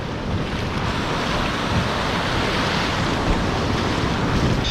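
Ocean waves wash steadily onto a beach on the north coast of the Dominican Republic, a loud, continuous roar of surf with some wind noise on the microphone and no speech.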